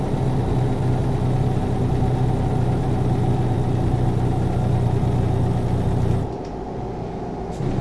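A Western Star 49X truck with a 600-horsepower engine in American Truck Simulator rumbles at a loud, steady idle, then drops abruptly to a lower, quieter drone near the end.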